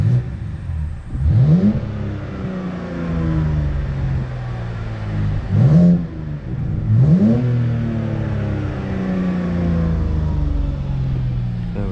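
BMW car engine revving through the exhaust, three sharp blips rising from a steady idle, each one dropping back slowly, loud and close with the idle rumbling continuously between them.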